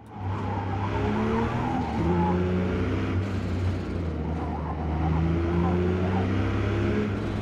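Porsche 911 drifting in Forza Motorsport, engine droning steadily throughout with tires squealing in long, wavering screeches through the corners, loud and continuous.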